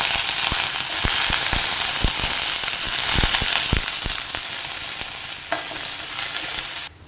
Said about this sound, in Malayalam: വെളിച്ചെണ്ണ ഒഴിച്ചു അതിലേക്ക് ഉള്ളി കറിവേപ്പില ഇട്ട് കൊടുക്കുക